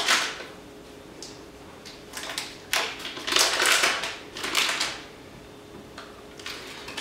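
Paper butter wrapper being handled and folded in a kitchen, giving sharp crinkling rustles and crisp crackles in irregular bursts, close and fairly loud against a quiet room.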